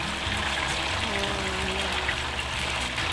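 Water is poured onto banana chips frying in hot oil, setting off a loud, steady hiss and sizzle that continues throughout, with no talking.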